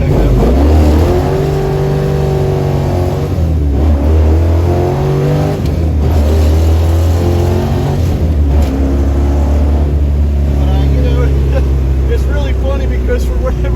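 A 1971 Dodge Challenger with a 440 engine, four-speed manual and 4.10 Dana 60 rear end accelerates hard. The loud, close engine note climbs in pitch, drops at each gear change, then climbs again, sustained throughout.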